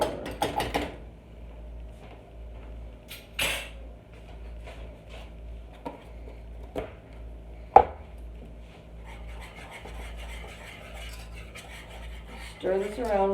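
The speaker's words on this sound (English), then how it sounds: "Stir this around real well." A spoon stirring cocoa powder into a chocolate sheet cake batter, heard as quiet scraping with scattered clinks and knocks against the bowl, plus a few sharper taps.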